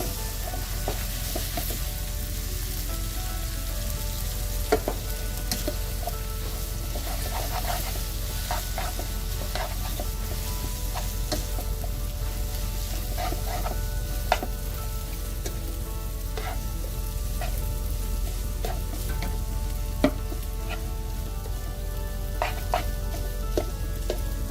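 Shrimp egg lo mein noodles stir-fried with sauce make a continuous close sizzle, with frequent small scrapes and taps of the utensil breaking up the noodles, and an occasional sharper knock, and no voices.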